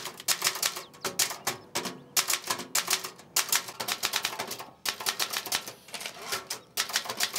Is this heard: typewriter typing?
yes